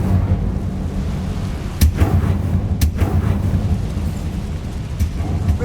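Incendio fire spell cast in the Hogwarts Legacy video game, with a sharp burst and crackling whoosh over a steady low rumble of game ambience, followed by a second sharp hit about a second later.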